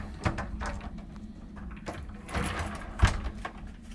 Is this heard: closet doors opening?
yes